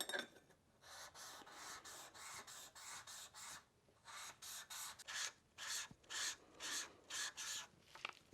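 Hand tool worked back and forth inside the counterbore of a Porsche 356 intermediate plate, giving a steady series of close, dry rasping strokes in even rhythm, with brief pauses between bursts.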